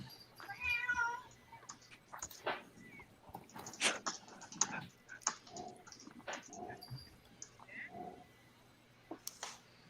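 Pet cat meowing near a computer during an online chat, several separate meows spread over ten seconds, fairly faint, mixed with keyboard typing and clicks.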